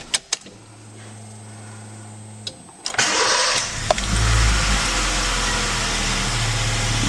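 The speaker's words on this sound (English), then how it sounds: "the real test will be turning the ignition key" A 2002 Honda Jazz 1.2 petrol engine is started with the ignition key inside a garage. A few clicks and a brief whine come first, then the starter cranks and the engine catches into a loud, steady idle.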